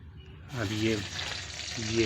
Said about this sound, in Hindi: अब एमा मसाला ला भूंजे जाही पहली।